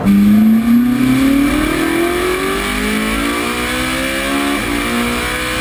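A Ferrari 458 Speciale engine revving hard above 5000 rpm, pitch climbing steadily as it accelerates, loud and close, with a brief dip before rising again.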